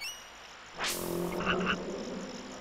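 A frog croaking in the swamp of the video game Secret of Evermore, a short synthetic burst followed by a few quick croaks over a faint electronic game backdrop.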